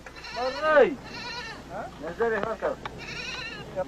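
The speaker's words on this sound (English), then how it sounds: "When the goat we had been carrying with us was brought out for the kill, it marked the beginning of a special occasion." A goat bleats as it is brought out for slaughter by soldiers in a desert war setting, giving several wavering, nasal cries in a row, loud and near.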